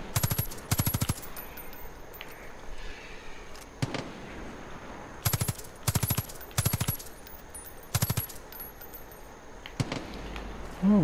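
Gunfire aimed at vultures in Far Cry 5: short bursts of rapid shots, each a cluster of sharp cracks, come in separate volleys with gaps of quieter game ambience between them.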